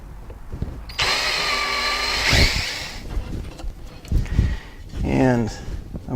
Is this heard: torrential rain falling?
no